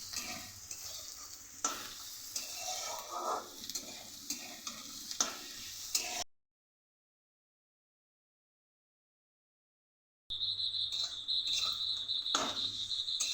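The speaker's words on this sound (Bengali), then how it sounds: "আবার একটু ভালো করে ভাজবো" Tomato, onion, green chili and chopped ginger frying in a pan for fried rice, a close sizzle with scraping stirs and a persistent insect-like chirp, broken by a few seconds of silence before the frying resumes.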